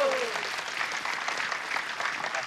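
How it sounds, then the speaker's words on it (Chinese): A studio audience on a variety dating show breaks into brisk, sustained applause, a dense, even wash of clapping that carries through the whole short stretch. "掌声欢迎！"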